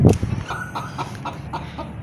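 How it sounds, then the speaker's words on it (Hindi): Silkie hen clucking in a mini zoo enclosure, a steady series of short, close clucks repeating about every quarter second, with a louder squawk at the start and low background rumble. "यार ये सिल्की मुर्गी ना इधर आ रही है"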